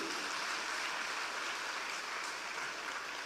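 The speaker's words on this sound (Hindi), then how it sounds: "जोरदार तालियां बजाओ इस बात के लिए भी।" A crowd applauds at a political rally in India, a steady, dense wash of clapping that holds even and loud with no voices over it.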